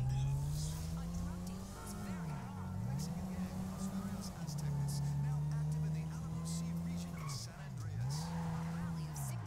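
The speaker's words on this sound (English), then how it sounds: "this car sounds so shit" A stolen car's engine drones through gear changes as it drives in Grand Theft Auto 5, the pitch rising and dipping with throttle, with faint tire squeals and clicks under a steady game soundscape.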